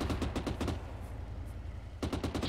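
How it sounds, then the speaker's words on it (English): Auto cannon fire in Arma 3 comes in rapid bursts of heavy thumping shots, with a short pause in the middle before another quick volley, at a moderate distance. "Some kind of auto cannon."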